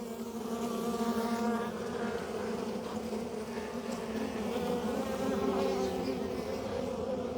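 Honeybees swarming over a hive frame in January, a dense continuous buzzing drone that stays fairly loud and even throughout, with no voices over it.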